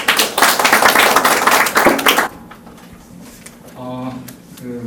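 An audience at a tourism development seminar in Gyeongju claps for an arriving speaker, a loud burst of many hands lasting about two seconds, then stopping abruptly before faint room sounds and a voice.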